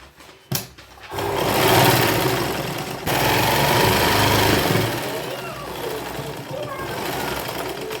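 An electric sewing machine stitches elastic gathering on a child's sharara outfit, running in a loud steady whir for several seconds after a few short starts, with voices faintly in the background.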